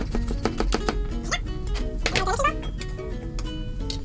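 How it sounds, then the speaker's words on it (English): A knife cuts a cucumber lengthwise into large julienne strips on a board, making a quick series of sharp taps and chops close by, with a voice heard faintly in the background. "Right now, cut it longwise, a large julienne."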